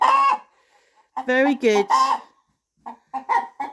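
Backyard hens clucking loudly and close in a couple of bursts with brief gaps, alongside a person speaking briefly.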